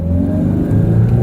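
A car engine with a semi-automatic gearbox, one that flashes N and fails to engage second gear, revs up loudly and steadily under extra throttle, a close, continuous mid-pitched drone with no talking.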